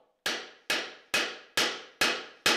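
Six evenly spaced, medium-strength hammer blows drive a pin through the mortise and tenon joint of a barn beam, each a crisp, close knock with a short ringing decay and no talk.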